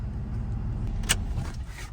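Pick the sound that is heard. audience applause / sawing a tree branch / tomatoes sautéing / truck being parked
truck being parked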